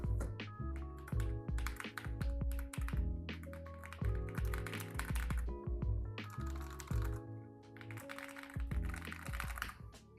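Typing on a newly built mechanical keyboard: bursts of crisp, rapid key clacks in quick runs, close and clear, pausing briefly between flurries.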